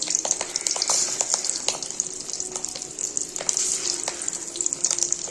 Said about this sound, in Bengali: সবার প্রথমে আমি মাছের ডিমটা ভেজে নেব।